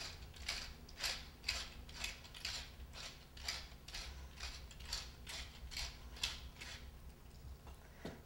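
A pepper grinder is twisted over chicken thighs being seasoned with salt and pepper, producing a quick series of close ratcheting crunches in an even rhythm, roughly a dozen turns, with no voice.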